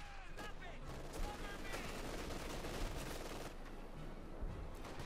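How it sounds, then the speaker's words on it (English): Howitzer fire from an M8 Scott 75mm in a Company of Heroes 2 battle, heard as dense, continuous booming and crackling gunfire with a few sharper reports around the middle, under a busy wartime din. "Firing it, 75mm with a howitzer."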